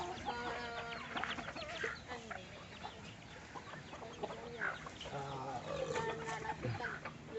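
Free-range Cebu native chickens cluck and chatter around a rural yard in Cebu, with overlapping nearby and distant calls and a busy, continuous flock texture, fairly faint.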